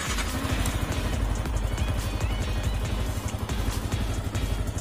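A Yamaha R15 V2 motorcycle engine runs steadily nearby with a loud, rapid rumbling chug, no voices over it.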